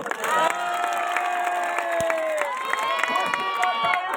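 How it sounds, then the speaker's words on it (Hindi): A crowd at a local village wrestling bout claps and cheers with scattered shouts over a continuous layer of tonal music or voices, moderately loud and sustained. "भाइयों एक और ताली की जोर बजाओ"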